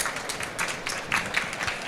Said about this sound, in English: if we give a round of applause, please, for Oliver, Emily,